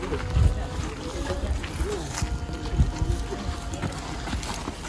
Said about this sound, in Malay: InsyaAllah sekejap ni sampai lah bot.